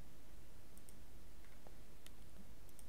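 A computer mouse clicking through Device Manager menus on a PC: a few sparse, faint, sharp clicks spaced apart against near silence.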